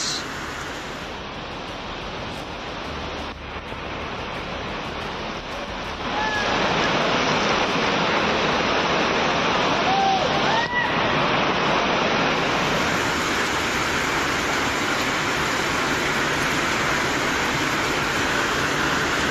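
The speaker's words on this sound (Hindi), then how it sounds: "बहुत भयंकर बारिश।" Heavy monsoon rainfall in India pours as a dense, steady hiss with a rushing wash underneath, growing louder partway through and then staying continuous with no voices.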